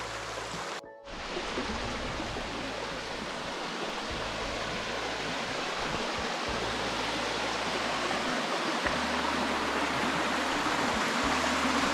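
A mountain stream at Kotaganga in the Knuckles Range near Rangala rushes and gurgles continuously, a dense, fairly loud wash of flowing water after a brief dip at the start, with no voices.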